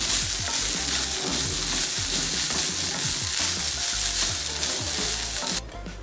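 Grated coconut fries in coconut oil while being stirred, giving a loud, continuous sizzle with rhythmic scraping strokes that cuts off abruptly near the end.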